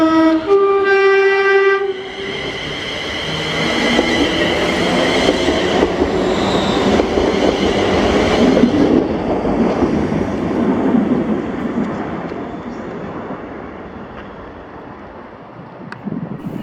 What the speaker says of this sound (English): This is 1W26, the 1411 ScotRail service to Wembley Bay from Glasgow Central.